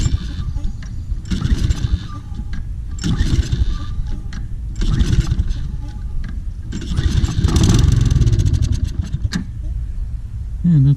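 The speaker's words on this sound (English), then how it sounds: "Good sign is it does try to start." A Toro Personal Pace Recycler Model 20333 self-propelled lawn mower with a clogged carburetor is pulled over repeatedly, giving four or five loud bursts of cranking engine sputter that die out between tries, with no speech.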